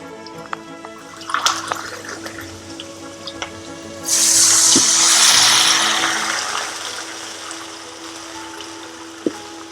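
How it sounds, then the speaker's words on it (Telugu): After a few clinks and taps, water pours steadily into a metal pan for a couple of seconds, then tapers off, close by, while making semiya upma. "గ్లాసున్నర వాటర్ పోయాలి"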